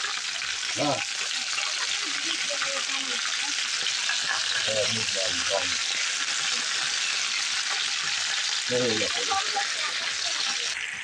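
Potato cut into thin straw-like strips fries in fresh refined oil, a steady broadband sizzle filling the whole stretch, with a few scraping stirs and some speech-like sounds over it.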